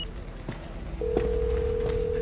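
A telephone ringing in a tense office scene, a steady electronic ring tone that starts about a second in and holds to the end, fairly close, with faint clicks before it.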